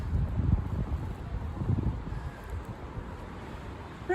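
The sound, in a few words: wind blowing outdoors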